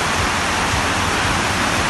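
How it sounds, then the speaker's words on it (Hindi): Heavy rain pours down in a dense, steady hiss that fills the whole moment, loud and unbroken, with no voices. "और तेज बारिश शुरू हो गई है।"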